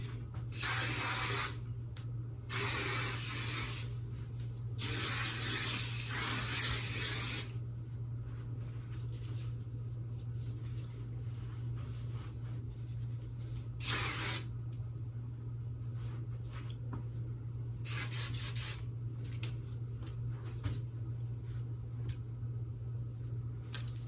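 Several hissing bursts from an aerosol hairspray can, a few long blasts and short puffs separated by pauses, over a low steady hum.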